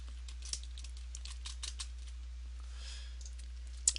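Quiet, irregular clicks of fingers typing code on a computer keyboard come in short bursts over a steady low electrical hum, close and soft with no talk.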